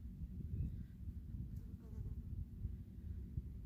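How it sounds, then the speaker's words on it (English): A honeybee buzzes faintly around someone camping at Lake Rathbun, a soft hum that comes and goes under low outdoor background noise. "trying not to get stuck by a honeybee."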